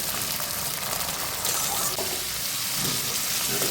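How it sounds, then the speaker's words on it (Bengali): Steady oil sizzle and crackle of yardlong beans frying in a pan, continuous and close, with occasional stirring scrapes. "এই তেলের মধ্যে আমি হালকা করে বরবটিগুলো ভেজে নেব"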